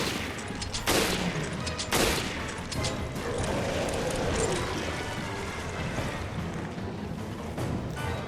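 Gunfire in Resident Evil Revelations Abyss Raid Mode: a few sharp, loud shots stand out against a dense, continuous rumble of game noise, with scattered fainter bursts later on.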